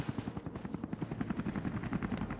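Rapid rhythmic thumping of low-flying helicopter rotors in the video game Rise of the Tomb Raider, fairly close and steady, with faint bursts resembling gunfire mixed in.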